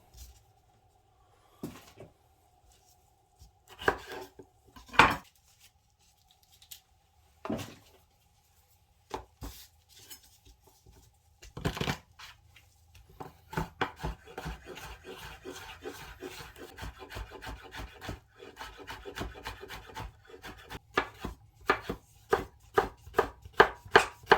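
A knife chopping jalapeno on a cutting board, sparse separate knocks at first, then a quicker run of close, sharp taps.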